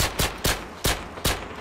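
Five sharp, close gunshots fire in a steady rhythm in Call of Duty: Modern Warfare 2, Search and Destroy mode, each a loud crack with a short decay.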